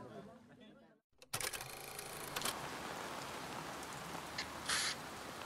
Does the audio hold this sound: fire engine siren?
no